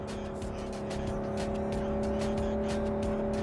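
Car in Cyberpunk 2077, driven by Jackie during the Nomad intro, with a steady engine drone and road roar throughout and faint tire noise, without speech.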